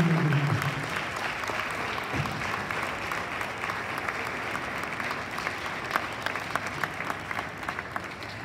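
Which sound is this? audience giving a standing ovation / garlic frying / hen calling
audience giving a standing ovation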